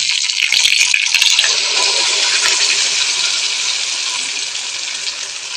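Water is poured into frying fish curry masala for a Mangalore-style mackerel curry, making a steady, loud rushing hiss that carries on for several seconds and fades slightly toward the end.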